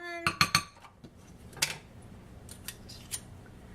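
Metal spoons clatter against a bowl while crab salad with sour cream is mixed, a quick burst of sharp clinks up front, then scattered lighter clinks and scraping against quiet kitchen background.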